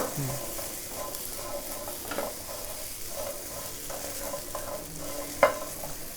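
Food sizzles and is stirred in a pan with a little oil, with repeated scraping strokes and a sharp clink of utensil near the end.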